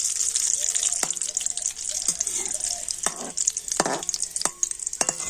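Curry leaves fry in hot oil with a steady high crackling sizzle, broken by several louder bursts and stirring clinks, close and alone without voices.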